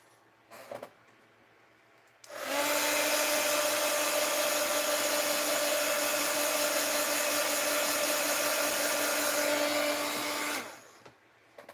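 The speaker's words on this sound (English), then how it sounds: "Let's hit it with a heat gun." A heat gun blows steadily for about eight seconds while drying paint on a mixed-media rusting collage, a loud, even broadband rush with a constant whine that starts and stops abruptly.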